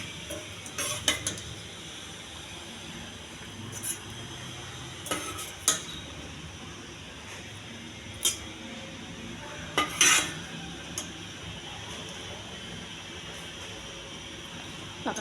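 Dishes and cutlery clink and knock while a lunch box is packed with chickpea curry and okra fry, producing scattered sharp clatters over quiet kitchen background, with no voices.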